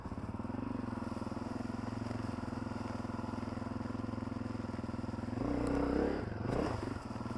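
A Honda CRF250F dirt bike engine chugs steadily at low revs, then rises briefly as the rider hops it over a log, settling back to a rough idle-like putter.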